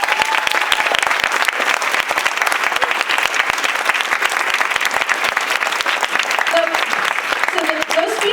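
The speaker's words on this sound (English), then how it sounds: "The speakers, please give them another round of applause." Sustained, full applause from an audience at a community conversation event, even and loud throughout, with a voice briefly audible near the end.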